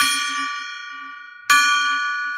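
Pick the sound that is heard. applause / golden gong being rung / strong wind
golden gong being rung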